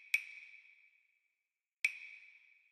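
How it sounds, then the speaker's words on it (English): Two sharp clave hits spaced well apart, each ringing out in a bright pitched tone that repeats and fades as a ping pong delay trails after it, clean and isolated. "So the next thing I have here is this little clave, which actually has that ping pong delay."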